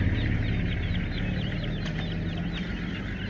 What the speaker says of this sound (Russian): Это куры, да.